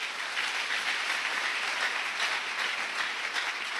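Congregation clapping in a church, a dense, steady burst of applause lasting a few seconds, even and moderately distant with no voices rising above it.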